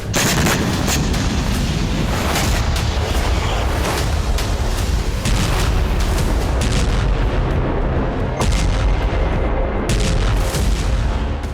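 Artillery fire and explosions from attacks in the Ukraine-Russia war, a loud, dense barrage of booms and sharp gunfire cracks rolling continuously with no voices.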